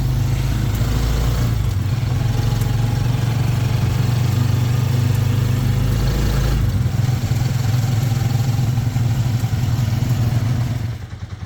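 A motorized tricycle engine runs steadily during a ride in Palawan, a loud, close, continuous rumbling drone with some rattling clatter that holds through most of the clip before fading slightly at the end.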